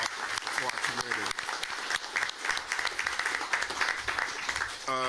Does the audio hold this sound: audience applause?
yes